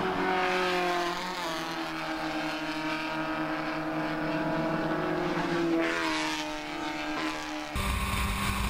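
Spec Miata race cars scream past on a road racing circuit, a continuous high-revving engine whine with pitch shifts through gear changes, loud and close, ending in an abrupt cut.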